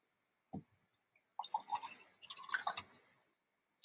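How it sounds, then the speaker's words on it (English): Half a cup of hydrogen peroxide poured into a glass jar, heard as a short splash followed by a couple of bursts of trickling, gurgling liquid close to the microphone, with no talking. "here's my half a cup of hydrogen peroxide, and I'm going to pour that into my glass jar."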